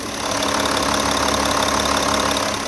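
A Porsche Cayenne diesel SUV engine idles steadily up close, a continuous rattling clatter with a low rumble and no talking.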